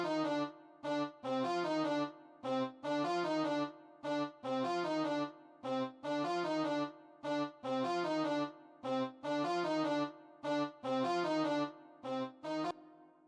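A brass synth preset from Purity in FL Studio plays rhythmic staccato chords in a repeating, evenly pulsing pattern of short stabs, bright and full, with no voices.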